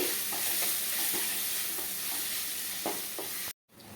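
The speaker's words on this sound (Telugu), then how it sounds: "ఈ స్పైసెస్ అన్నీ కూడాను ఒక నిమిషం పాటు ఆయిల్లో బాగా ఫ్రై చేసుకోవాలండి" Dry spices sizzle steadily in hot oil for a dry fish curry, a continuous crackling hiss with occasional stirring scrapes, then a brief sudden silence near the end.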